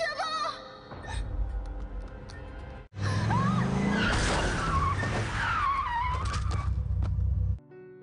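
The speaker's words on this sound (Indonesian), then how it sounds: "Ia ditabrak dengan kencang oleh sebuah mobil hingga badannya terpental" A car skids with a tire squeal in a parking lot and strikes a person, a sharp sustained skid after a brief silence, loud and close, following a short stretch of other sound.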